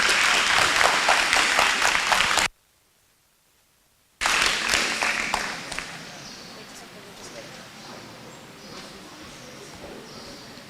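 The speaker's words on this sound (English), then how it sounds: "This resolution passes. Clapping will be tolerated." Delegates at a Model United Nations conference applaud after a resolution passes, a dense, loud burst of clapping that stops abruptly, then resumes and fades to a quieter, thinning patter.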